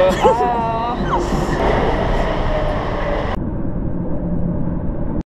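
A Paris Metro train rumbles loudly nearby, with a brief wheel squeal early on. The noise carries on steadily, then cuts off abruptly at the end.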